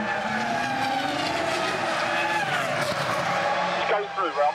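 A Formula 1 car spins and skids at the 2004 Shanghai Grand Prix, a steady loud roar of engine and squealing tyres that wavers and falls away near the end, with race commentary talking over it.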